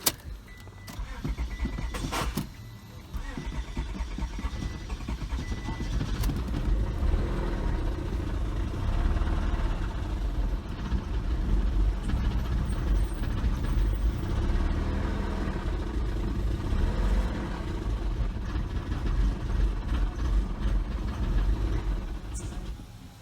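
A Honda Accord with a knocking engine is revved up close. A loud, continuous engine roar with a rough, rattling undertone holds for about twenty seconds after a brief start-up clatter, with no talking.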